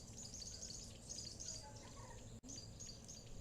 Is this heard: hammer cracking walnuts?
no